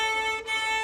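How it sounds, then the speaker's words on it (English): A violin bowed too close to the bridge gives a thin, glassy, sustained tone rich in high overtones, heard briefly and close. "my bow is just too close to my bridge."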